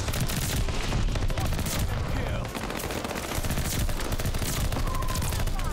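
Dense, continuous automatic weapon fire in Call of Duty Vanguard, loud and close, with rapid rattling shots and a brief dip before the barrage resumes, mixed with game battle noise.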